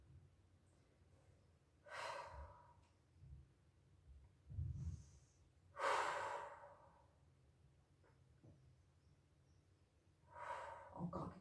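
Slow, deep breaths during a gentle stretching routine, with three or four long, airy exhales spaced several seconds apart and heard up close in an otherwise quiet room.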